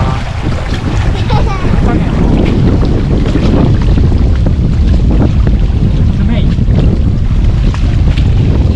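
Strong spring wind buffets a boat out on Lake Kawaguchi in Japan, a constant loud roar of gusts battering the microphone over rushing water and splashing spray, close and unbroken throughout.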